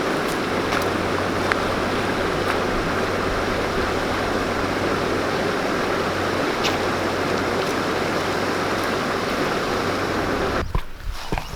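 A Himalayan river flows in a continuous, broadband rush of water close by, steady for about ten seconds before the sound cuts off abruptly near the end.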